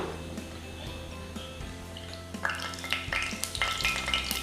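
Sliced onions hit hot sunflower oil in a pan, starting as a faint hum, then breaking into a brighter crackling sizzle with scattered pops over the last couple of seconds.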